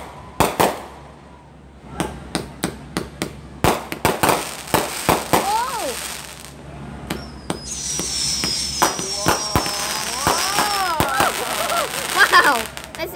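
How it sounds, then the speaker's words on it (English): Fourth of July fireworks at Virginia Beach, sharp booming and cracking explosions in quick irregular succession, loud and close, with whistling and crackling trails, while excited voices shout and cheer over them. "We managed to find actual fireworks in this video."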